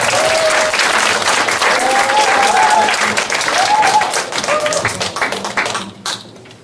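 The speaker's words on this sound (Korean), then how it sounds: "박수로 맞아주세요." An audience at a conference applauds with dense, sustained clapping that stays loud and steady before thinning out and trailing off near the end.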